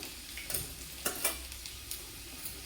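Garlic pieces and a pinch of asafoetida sizzling in hot oil, a soft continuous crackle with a few sharp stirring scrapes and clinks, quiet and close.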